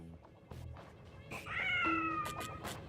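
A cartoonish cat in the video game Quantum Conundrum lets out a drawn-out, wavering meow after a few soft knocks, clear and fairly close.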